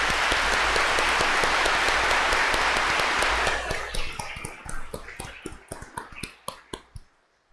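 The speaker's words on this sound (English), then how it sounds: "Grand applause to everybody, please." Congregation applauding during an Easter Vigil Mass in a church, dense clapping for a few seconds that thins into scattered individual claps and dies away.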